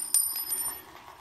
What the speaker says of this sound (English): Sorry about the banging with the bowl.